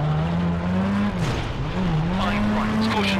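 Rally car engine in WRC Rally Evolved on a snowy Swedish stage, a loud sustained drone that dips and recovers as the car slides into a snowbank, with scraping noise and someone talking.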